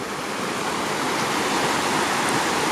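Steady, loud broadband rush of a creek with the waterfall just out of sight, a continuous wash of water noise with no breaks and no voices.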